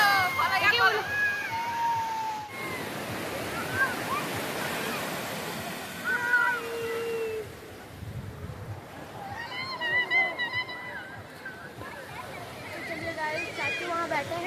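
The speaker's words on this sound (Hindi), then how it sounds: "हम लोग समुद्र में, हम लोग बीच में हैं" Sea waves rolling in at Puri beach, a steady broadband wash of surf running throughout, with children and adults talking and shouting nearby over the water noise.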